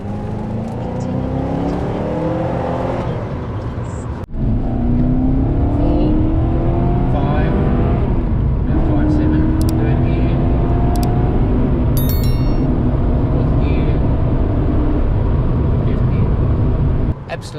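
V8 Porsche 928 coupe with a manual gearbox driving and accelerating, its engine droning steadily with rising pitch through the gears, close and loud from inside the cabin, with a brief break partway and people talking over it.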